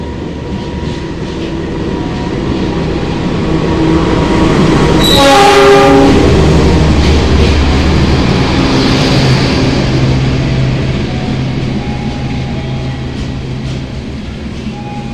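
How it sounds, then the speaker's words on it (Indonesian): Two Indonesian passenger trains, the Serayu and the Mutiara Selatan (Bandung to Surabaya Gubeng), pass each other at a crossing station, with a loud sustained rumble, a brief horn blast and rhythmic wheel clatter under a long steady roar. "kereta api Serayu juga di sini bersilang dengan kereta api Mutiara Selatan dari Bandung tujuan Surabaya Gubeng"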